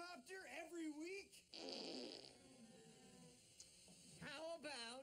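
A comic fart sound effect from a TV comedy, a few wobbling, sputtering blasts alternating with voices, quiet overall.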